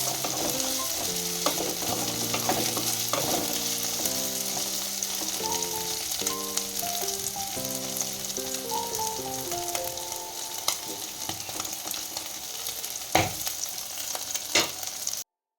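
Leta polu sizzles steadily in a pan on a gas stove turned low, with occasional stirring scrapes and a sharp clack near the end, while soft background music plays underneath.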